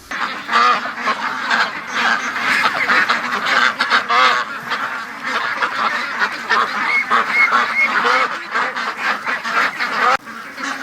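A flock of ducks quacks and honks loudly and continuously at close range by a creek, overlapping calls forming a busy, clamorous chorus throughout.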